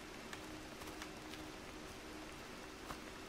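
Rain hisses steadily and softly in the H1Z1 video game, a faint continuous wash with occasional brief drop ticks and no voices.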